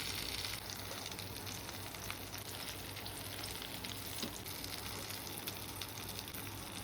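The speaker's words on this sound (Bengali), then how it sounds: "চলো এটা আর একটুখানি ভাজি" Eggplant slices in an omelette-style egg coating fry in a pan with a continuous, fairly loud crackling sizzle that holds steady throughout, with no voices.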